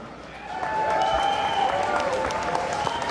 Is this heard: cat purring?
no